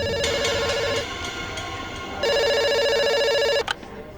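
A telephone rings at a pizza shop in two long, bright electronic bursts separated by a short gap, loud and close, with no talking over it.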